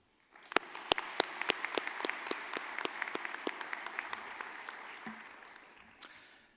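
Moderate applause from a conference audience at an Electrochemical Society gathering, with distinct individual claps standing out over the wash for several seconds before it tapers off.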